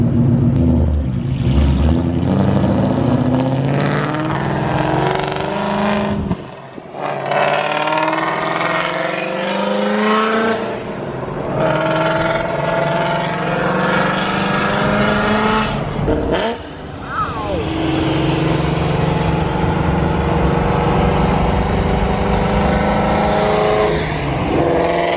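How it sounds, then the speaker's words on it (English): A street-racing car with its exhaust dumped and no tips roars continuously at a crowded night meet on a Florida highway, revving hard and rising in pitch through gears, very loud and close. "He changed exhausts again, so now it's super loud."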